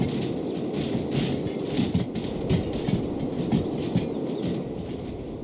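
A long, heavy freight train of about 628 tons on a shunting run behind a new slug locomotive, rumbling steadily up close with a low continuous roar and scattered clanks and knocks from the cars.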